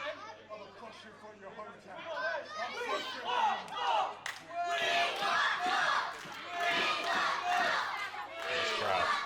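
A wrestling crowd at a tag team elimination match yells and cheers, rising and falling in loud surges of shouting and chatter, with one voice briefly calling out in the middle.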